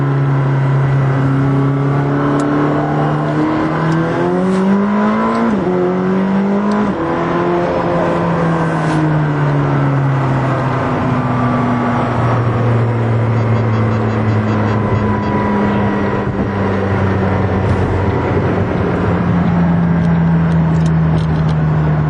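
A McLaren 620R road-going race car engine drones loudly from inside the car while driving, with pitch climbing and dropping through gear changes and a steady, strong mechanical roar throughout.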